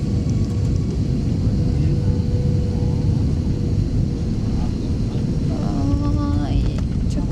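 Airliner touching down at Takamatsu Airport on a flight from Busan, heard from inside the cabin in strong wind as a loud, steady roar and rumble that continues throughout, with faint voices underneath.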